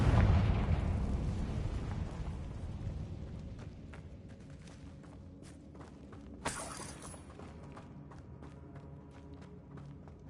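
A Confringo spell blast from Hogwarts Legacy, fired inside a decayed catacomb: a faint rumbling burst that fades slowly, then a brief sharp crack partway through over a quiet background.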